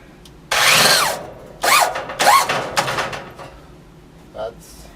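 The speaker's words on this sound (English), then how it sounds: "drill and it's the same kind of screws that we were using earlier there" Cordless drill driving 1.5 inch screws into the side of a floor-directed heat duct during installation, with a long loud whirring run followed by two shorter bursts, close up, then quieter handling noises.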